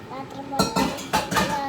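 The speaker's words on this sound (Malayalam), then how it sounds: "നമുക്ക് ആ പാത്രം കൂടെ ഒന്ന് ഇട്ട് കൊടുക്കാം" A metal cooking pot being handled while making puttu, several sharp clanks and knocks close by, over ongoing talk.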